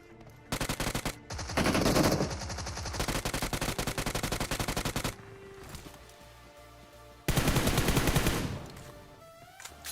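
Rapid automatic gunfire from the mobile game BGMI crackles in long, loud bursts with brief pauses between volleys.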